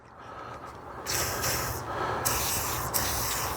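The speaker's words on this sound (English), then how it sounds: "Just spray it on." Short bursts of WD-40 aerosol spray onto garden tools hiss up close, starting and stopping in three sharp blasts separated by brief pauses.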